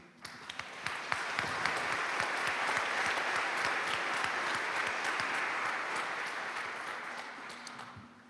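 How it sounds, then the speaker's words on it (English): Audience at a town hall meeting applauding after a speech, a sustained, dense wave of many hands clapping that swells and holds for several seconds before tapering off. "That was great and great applause."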